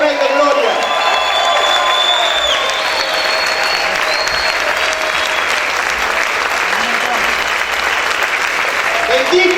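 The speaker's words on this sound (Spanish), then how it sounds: "Grita y aplaude fuerte al Rey de Gloria" A church congregation shouts and claps loudly in worship, dense continuous applause mixed with cheers and whoops, a few sung or shouted voices threading through the crowd noise.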